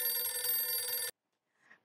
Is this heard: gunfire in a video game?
no